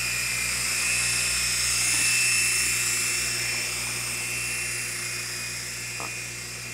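Blade mCX micro RC helicopter hovering indoors, its small rotor and motor making a steady, high, whining buzz that swells and fades slightly, with a few faint clicks.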